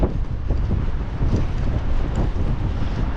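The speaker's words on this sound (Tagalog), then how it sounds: "Masyadong mahangin po mga kahasang." Strong wind roars at sea during a fishing trip, buffeting the microphone with a loud, continuous, gusty rumble that fills the whole stretch without a break.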